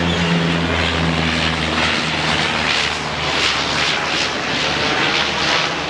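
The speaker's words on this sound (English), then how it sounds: "Airplane." A propeller airplane drones overhead over Cairns, Australia, loud and steady for the whole stretch with no talking.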